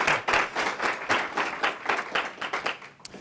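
A conference audience applauds after a speaker's introduction, dense steady clapping from many hands that holds for a few seconds and tapers slightly at the end.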